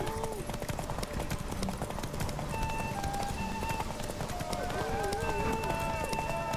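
Hooves of Roach, Geralt's horse in The Witcher 3: Wild Hunt, clip-clop at a steady gallop, close and continuous beneath game music and voices that talk over the ride.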